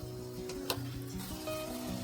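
Onion and tomato masala frying in a pan for sukka chicken, giving a steady close sizzle with soft stirring scrapes and small clicks throughout.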